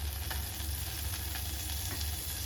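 Butter heats in a pan with a soft, steady sizzle and faint crackles. It plays alone for a couple of seconds with no talking.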